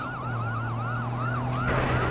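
An ambulance siren in the video game Watch Dogs 2 wails in a steady rising and falling cycle over a low engine drone, with a louder noisy burst near the end.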